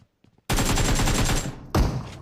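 Rapid automatic gunfire in the mobile shooter game PUBG Mobile, a dense burst of shots lasting about a second, then a short pause and one more loud report, close and alone.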